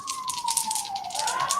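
An emergency vehicle siren wails on a New York street, its steady tone sliding slowly downward over a wash of broadband street noise, with no one speaking.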